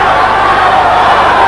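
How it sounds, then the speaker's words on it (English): A boxing arena crowd roars loudly and steadily during the 11th round of a bout, a dense wash of cheering and excited voices with no pauses. "Crowd getting a little bit excited, maybe sensing that Czyu can put him away here in the 11th."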